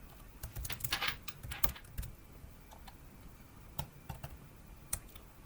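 Computer keyboard typing during a SQL normalization lesson, irregular bursts of crisp keystrokes clustered early then scattered single clicks, fairly quiet and close, with no talking.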